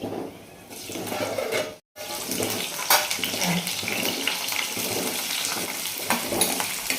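Cumin seeds and green chillies sizzle and crackle in hot oil in a kadai for a tomato egg curry, a steady broadband frying hiss with one brief drop to silence, then continuing with small pops.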